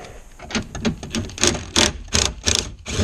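Ratcheting and clicking as a 10 mm bolt is backed out of the side mirror mount inside the door of an S550 Mustang, a run of sharp, closely spaced metallic ticks and bursts, close and fairly loud.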